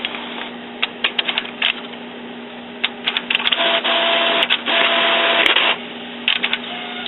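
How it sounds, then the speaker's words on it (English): An Epson XP inkjet printer prints at close range, its carriage whirring in bursts punctuated by clicks and ticks, with a sustained mechanical hum and short gaps between passes. "And you're back printing again."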